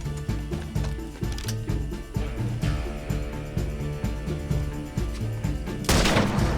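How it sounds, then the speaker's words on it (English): A Gatling gun fires in Red Dead Redemption 2 at Fort Mercer. Steady rapid shots run through a dense, loud mix of game sound, and a sharp louder crack comes near the end. "Oh, he's on that Gatling gun right there."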